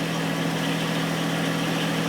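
The engine of a 260 backhoe idles while warming up, a steady close rumble with an even throb and no breaks.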